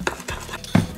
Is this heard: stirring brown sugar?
yes